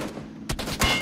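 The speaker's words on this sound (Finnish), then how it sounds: "Siellä muuten ammutaan" Gunfire in the battle game PUBG, a couple of quick sharp shots cracking out within a second, moderately loud over low background noise, with no talk.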